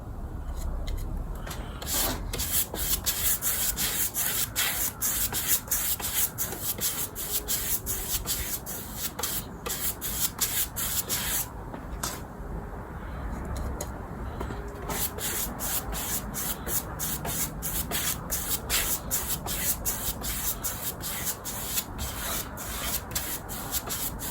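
Steady rhythmic scraping of sandpaper rubbed back and forth by hand over a painted wooden step, close and continuous with brief pauses.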